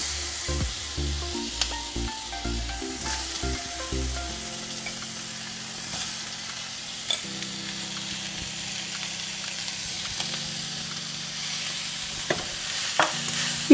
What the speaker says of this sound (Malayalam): ഇനി നമുക്ക് എല്ലൊക്കെ റിമൂവ് ചെയ്ത് മാറ്റിയ ആ ചിക്കൻ കഷ്ണങ്ങൾ ഇതിലേക്ക് ഇട്ട് കൊടുക്കാം.